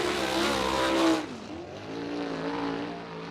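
A USAC sprint car laps Bloomington Speedway, its engine roaring loudly and then dropping in pitch as it passes and fades into a lower, steadier drone farther down the track.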